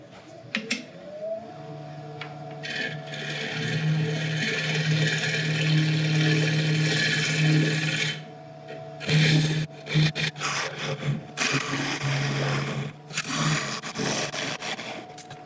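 Woodturning lathe tool hollowing the inside of an African mahogany bowl, a sustained scraping, rubbing cut over a steady motor hum that breaks off and resumes in short uneven bursts.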